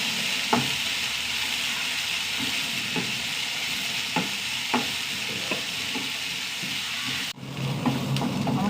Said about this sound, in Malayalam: സവാള നന്നായി വഴണ്ട് വരണം